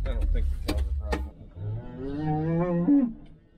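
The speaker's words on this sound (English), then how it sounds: "It's a nice looking cow." A cow moos once, a long drawn-out call rising and falling in pitch, close by on a farm, following a few sharp knocks and thuds of handling noise at the start.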